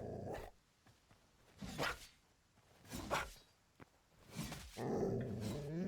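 A dog in the video game Hytale growls and barks in several bursts spread across the clip, fairly quiet and a little rough, with no speech.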